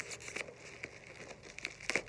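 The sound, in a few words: unwrapping bubble wrap packaging around a mug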